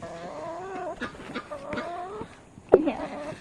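Farm chickens making soft, wavering clucks and calls near the listener, with a short sharp squawk near the end, over quiet background noise.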